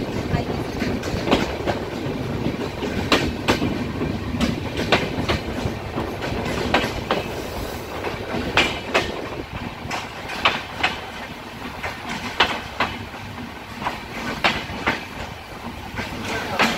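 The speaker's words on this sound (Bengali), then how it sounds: "কোটচাঁদপুর পার হয়ে আবার ট্রেন ছুটছে।" A passenger train on a Bangladesh rail line racing onward past Kotchandpur, with steady rumbling wheel noise and rhythmic clickety-clack beats from the rails, close and continuous throughout.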